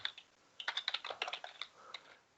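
Keys on a computer keyboard being tapped while an email subject line is entered, a quick irregular run of close, crisp clicks with short pauses, quiet and with no talking.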